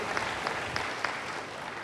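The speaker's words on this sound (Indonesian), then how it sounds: "Berikan tepuk tangan bagi Tuhan" Church congregation applauding God during a sermon, a short steady patter of clapping hands heard at moderate distance with a few sharper claps standing out.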